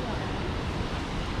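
Ocean surf roars steadily at Broken Beach on Nusa Penida, a dense broadband wash of breaking waves mixed with wind buffeting the microphone, loud and continuous throughout.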